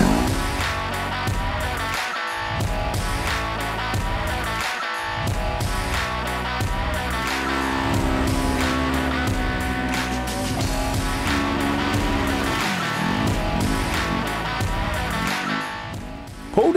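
A Polaris side-by-side UTV races through a muddy paddock track, its engine roaring loud and near with constant revving, brief dips and surges in pitch as it slides through mud, with no talk over it.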